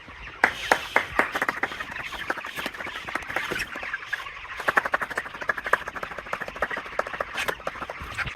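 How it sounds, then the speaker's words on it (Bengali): Hand clapping rings out in quick, loud bursts inside a broiler chicken farm shed to scare the birds, with short pauses between runs of claps and faint chicken calls in the background. "মুরগিকে ভয় দেখাচ্ছি হাতে তালি দিয়ে এবং উঠাই দিচ্ছি"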